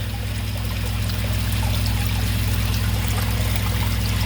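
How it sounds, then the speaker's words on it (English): Sump pump discharging and draining water from a pit, a steady continuous pouring flow with a low hum underneath, loud and unbroken throughout. "So I got the pump plugged in, it's draining pretty fast."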